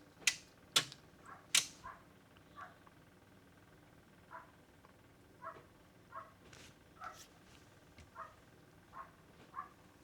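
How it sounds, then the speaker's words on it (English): Relays click inside a Solis S6 11.4kW high-voltage solar inverter: two or three sharp, loud clicks early on, then a run of softer, fairly regular ticks against a quiet background, with no talking. "Relays are clicking."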